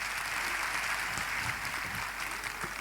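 Seminar audience at an achievers day celebration claps together in a steady, fairly faint wash of applause that holds evenly throughout with no voices on top.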